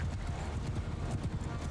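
Horse hooves clip-clop steadily in the Mount & Blade II: Bannerlord video game, a continuous run of dull rhythmic thuds under a busy low rumble of battle noise, with no talk.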